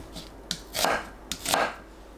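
A knife chops onion into 1.5 to 2 cm pieces on a board, two slow strokes, each a sharp tap followed by a crunchy slicing sound, close by.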